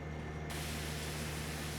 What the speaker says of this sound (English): let's just rinse the tractor down a bit